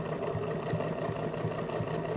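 A sewing machine runs steadily, stitching fabric along the edges of a padded cable caddy, its fast, even mechanical whir and rhythmic needle ticks continuous and close throughout.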